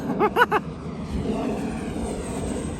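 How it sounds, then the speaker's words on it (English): A twin 64mm EDF radio-controlled MiG-25 Foxbat model jet howls past in a steady whooshing roar, preceded by a few brief voice bursts at the start. "Listen to that engine howl."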